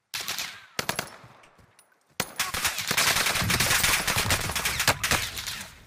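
Bursts of video game gunfire from a sniper ring out, with rapid overlapping shots and cracks that dip briefly to near quiet before a dense, loud volley fills the rest.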